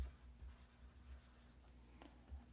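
A digital pen glides over a reMarkable tablet screen with faint, soft scratchy strokes under a low background hum, the strokes quiet and close.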